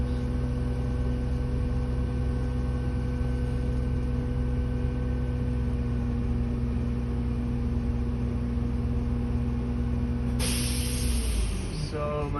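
A school bus engine idles with a steady low hum while the air brake system builds pressure, then the compressor cuts out with a sudden loud hiss of air near the end.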